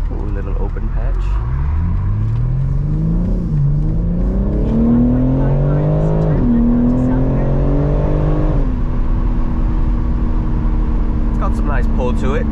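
A BMW M3 accelerates hard through Las Vegas streets, the engine revving up in rising sweeps before easing to a steady cruise, loud and close from inside the cabin.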